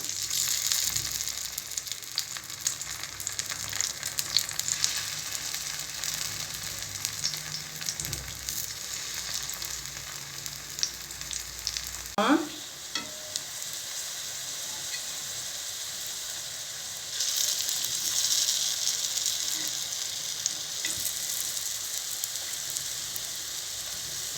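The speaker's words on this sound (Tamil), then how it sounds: "இதுவும் நல்லா கொஞ்சம் நேரம் ஃப்ரை ஆகி வரட்டும்" Plantain slices shallow frying in oil on a dosa pan, giving a steady, dense, close sizzle like rain on a hard surface, with a brief clink partway through and a slight swell in hiss near the end, no voices.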